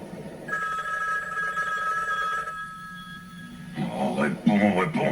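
A telephone rings unanswered in an alien-invasion film, its steady electronic ring repeating for about four seconds before voices take over in the closing moments.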